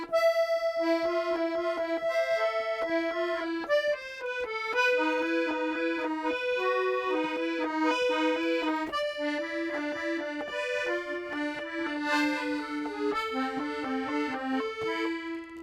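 Accordion plays a melody over chords, a sustained reedy line with shifting harmonies and steady bellows-driven tone, continuous and close throughout with no talking.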